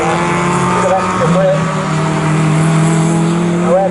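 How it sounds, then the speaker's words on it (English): MG Car Club race cars corner at Snetterton circuit in a Cockshoot Cup race, their engines loud and steady with rising and falling revs. A commentator talks over them throughout. "He's able to corner better through Murray, he can get the power down, he's got lots of grunt in that car, and therefore he's able to keep Cole Green"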